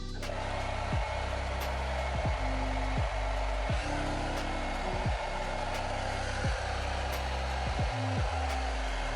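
A hair dryer without a nozzle blows steadily across long hair during a blow-out, a constant airy roar with motor hum that runs the whole time, close and loud, with no talking.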